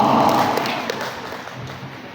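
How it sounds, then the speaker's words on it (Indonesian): Audience applause for the first speaker of the Pro team at a junior high school debate between SMPN 33 Makassar and SMPN 1 Sungguminasa. A dense wash of clapping starts loud and slowly fades across the clip. "mari kita berikan tepuk tangan yang meriah untuk pembicara 1 dari tim Pro"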